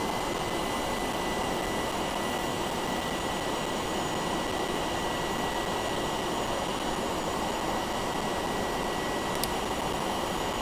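A Boeing 707 taxis in Microsoft Flight Simulator, its jet engines giving a steady, even drone and hiss that runs unbroken throughout with no voices.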